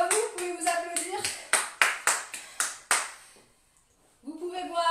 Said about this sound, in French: Bravo à vous, vous pouvez vous applaudir.